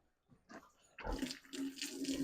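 Water surges through a supply pipe on a pig farm after a valve is opened, starting with a sudden burst and then running as a steady loud flow with splashing.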